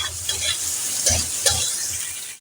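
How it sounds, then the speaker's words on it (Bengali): Prawns sizzle in hot oil in a pan, a close, steady crackle with a few louder pops and stirring scrapes over about two seconds. "আমার এই চিংড়ি মাছটা ভাজা হয়ে গেছে"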